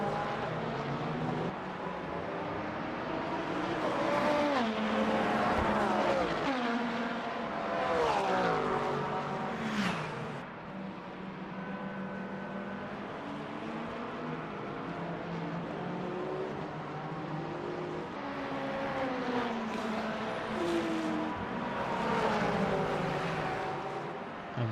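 A Ford Mustang and a Porsche race wheel to wheel at Bahrain in the Le Mans Ultimate racing game, their engines rising and falling through gear changes, sometimes overlapping as the cars pass close by, with no commentary over them.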